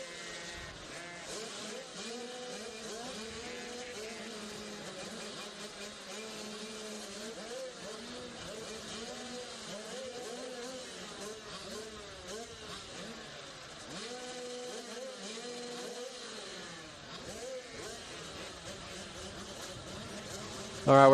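Motocross bikes idle and rev together at the start gate of a state-title race, a rough, wavering engine drone rising and falling in pitch, heard at moderate distance with a voice over it.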